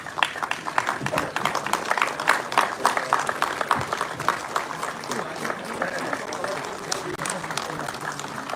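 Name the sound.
light applause from audience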